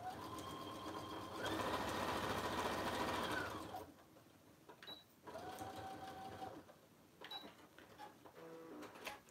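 A sewing machine stitches a simple messenger bag in quick whirring bursts. A long run is followed by shorter stop-and-start passes with faint clicks between them, all fairly quiet and close.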